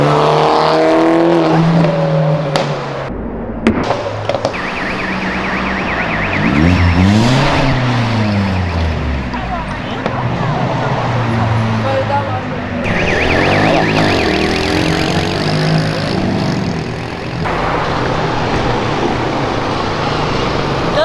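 A Citroën DS3 with a stage 4 tune revs hard close by, its engine note repeatedly climbing and falling in loud sweeping bursts throughout, with no talk over it.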